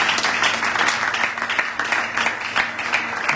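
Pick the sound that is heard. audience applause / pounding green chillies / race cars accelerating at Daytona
audience applause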